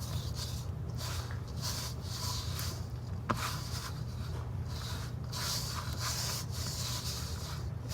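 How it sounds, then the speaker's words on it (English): Bread dough for a hand-made campagne loaf is mixed by hand in a bowl, producing repeated soft rubbing and squelching strokes in a steady rhythm over a low background hum. "Scrape it out and mix it."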